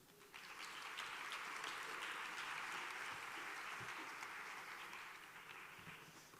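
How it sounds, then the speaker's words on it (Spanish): Audience at a vaccine-topic conference breaks into applause, swelling quickly to a full, even clapping that holds steady for several seconds before easing slightly. "Un aplauso."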